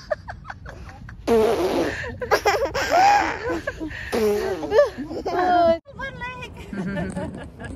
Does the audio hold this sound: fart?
yes